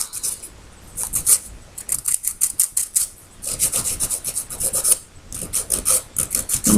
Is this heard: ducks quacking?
no